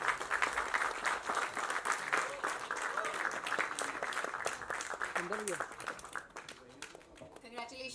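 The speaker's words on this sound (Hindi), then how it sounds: "जोरदार तालियां हो जाए अंकित हंस के लिए" Audience applause fills a film trailer launch event, steady sustained clapping from a crowd with a voice speaking over it, the clapping thinning toward the end.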